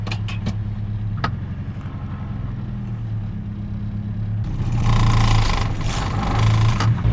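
An old car with manual steering drives along steadily, its engine rumbling low and even, then rising a little louder as road and mechanical noise swell toward the end; no voices.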